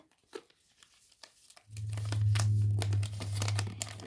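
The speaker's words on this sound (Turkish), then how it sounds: "İlk defa böyle bir paketi yırtmadan açabildim yalnız." Packaging crinkles and rustles close up as a Samsung Tab S9 FE tablet box is opened, a few quiet handling sounds giving way to a sustained, louder crinkling.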